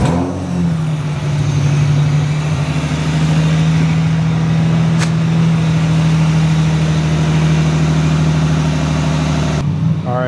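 A BMW E30 engine idles with a loud, steady low hum close by, its note holding evenly for about ten seconds before cutting off abruptly near the end.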